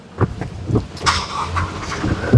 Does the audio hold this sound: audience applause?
no